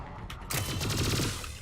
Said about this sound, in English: Gunfire. Where's that at?